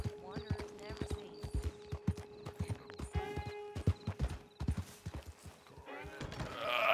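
Steady clip-clop of horse hooves close by in Red Dead Redemption 2, with a whinny and people talking over it, plus background game ambience.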